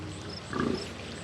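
A pig on a farm gives a single short grunting squeal near the middle, close and fairly loud, over steady farmyard background noise.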